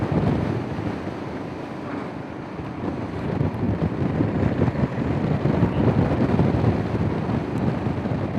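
Wind roars over a microphone as a motorcycle rides along country roads, a continuous heavy rush that swells toward the end, with no talk.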